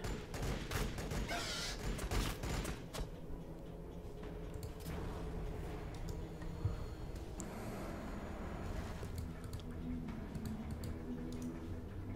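Units open fire in the strategy game Warhammer 40,000: Battlesector, a dense continuous clatter of gunfire and battle noise layered with ticking effects and a low rumble, sustained at an even level without talk.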